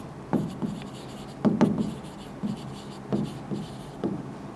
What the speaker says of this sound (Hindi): तो मैं लिख दूंगी 5 रैशनल नंबर्स